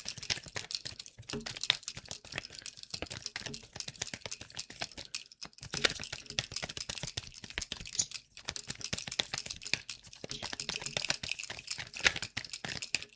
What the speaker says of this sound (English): This is the longest shuffle ever.